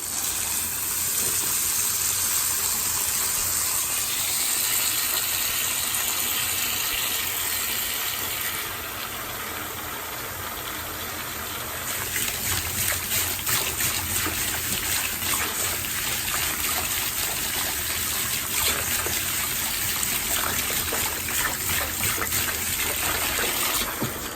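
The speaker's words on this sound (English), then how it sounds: "running a little bit of hot water in your bathtub or your bucket or your sink" Hot water runs steadily from a tap into a bathtub or bucket, a continuous close splashing trickle and gush that stays loud and even throughout, with no talking.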